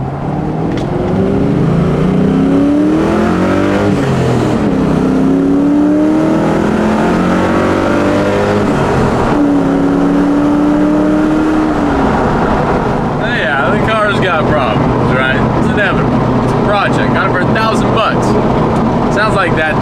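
A project car's engine revs loud and close, its pitch climbing and falling through repeated acceleration pulls, then gives way to a rougher, noisier roar as it keeps driving.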